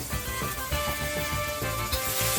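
Shredded zucchini sizzles in a hot, smoking wok over high flame, making a steady, dense frying hiss close up, with faint clinks of stirring throughout.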